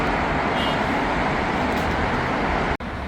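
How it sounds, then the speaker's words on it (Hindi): City traffic on a Dubai road, a dense, constant roar of passing cars and heavier vehicles, loud and steady throughout, cut by a brief dropout near the end. "आप लोग ये ट्रैफिक की आवाज़ सुनिए, फील द ट्रैफिक साउंड"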